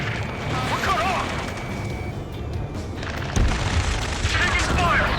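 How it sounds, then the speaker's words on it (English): Gunfire and crashing explosions from the Ace Combat 7 video game rattle continuously under shouted radio voices, loud and busy throughout. "Taking fire! We're pinned down! Shoot back!"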